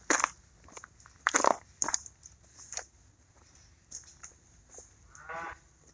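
An older dairy cow in a barn lets out several moos and groans at irregular intervals, some loud and close, others fainter, while crunching and chewing sounds fill the gaps.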